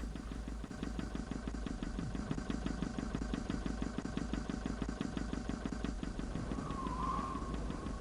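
An engine running in the video game Titanic: Adventure Out Of Time, a continuous low pulsing mechanical drone with a steady rapid beat, loud and unbroken throughout.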